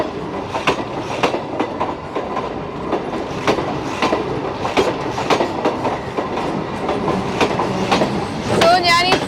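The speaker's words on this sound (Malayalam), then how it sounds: "സോ ഞാൻ ഈ ട്രെയിനിന്റെ പുറകെ അങ്ങോട്ട് പോവാൻ കേട്ടോ." A train rolls past in Kolkata with steady rhythmic clickety-clack of wheels over rail joints, loud and close, ending with a brief high wheel squeal.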